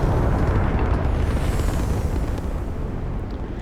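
A spaceship blown apart in Starfield: a loud, dense rumbling explosion that roars from the start and slowly tapers over a few seconds, with no voices.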